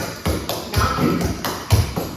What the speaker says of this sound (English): Then you got 2 kick slaps.